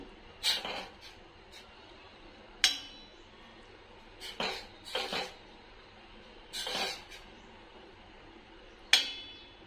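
Maggi noodles stirred in a pan, with a utensil scraping and clinking against the metal in several separate bursts over roughly ten seconds, close and moderately loud with quiet gaps between strokes.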